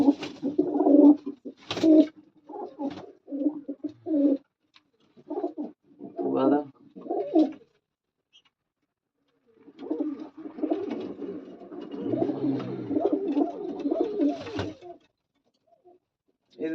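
Pigeons coo in low, rounded bursts close by, coming in irregular clusters with brief quiet gaps, then a denser stretch of overlapping coos near the end.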